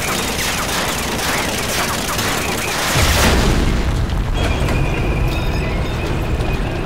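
Sustained rattling gunfire and heavy booming explosions from the World War II shooter Medal of Honor Allied Assault, loud and dense throughout, with a deep blast near the midpoint and continuing noisy rumble afterward.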